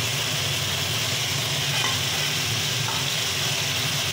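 A paste of green chili and poppy seeds sizzles steadily in a pan while being stirred, a close, even frying hiss with no talk.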